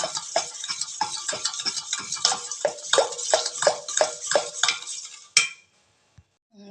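Cake batter for an eggless steamed glass cake being beaten briskly with a spoon in a bowl: fast, regular clinking and scraping strokes close by, stopping abruptly near the end.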